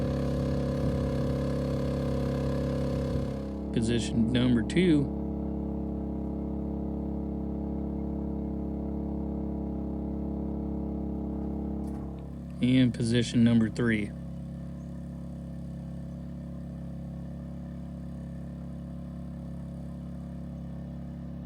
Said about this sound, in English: Now this generator can handle 25 amps under normal circumstances on propane